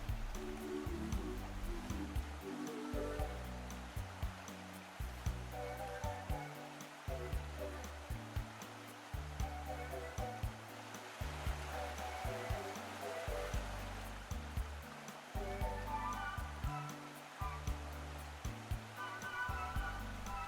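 A mountain stream in the Khevsureti valley, where the Andaki and Chanchakhi waters join, rushes in a continuous quiet wash, with low rumbling pulses underneath and no voices.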